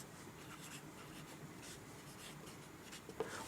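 A pen scratching out a class 10 maths problem on paper, with faint, continuous soft strokes close by and a small tap near the end, no talking.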